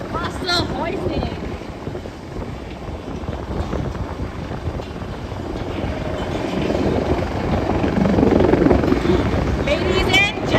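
An H225M helicopter at an air force open house in Singapore, a steady loud rotor and engine roar that swells slightly, heard under a public-address announcer's voice.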